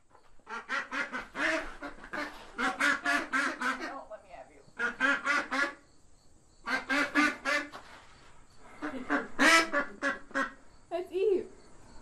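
A runner duck quacks loudly and close in repeated rapid runs of harsh calls, broken by short pauses.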